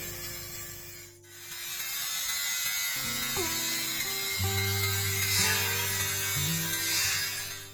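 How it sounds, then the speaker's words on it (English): An angle grinder smooths rough spots on a metal gate, giving a steady, close, buzzing whine with broad hiss that shifts pitch several times as pressure on the work changes. "We cleaned up the rough parts with the angle grinder again."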